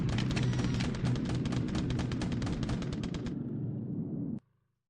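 Bombardment in the naval war game War in the Pacific: a loud, dense barrage of rapid gunfire and blasts rattles continuously for about four seconds, then cuts off abruptly into near silence.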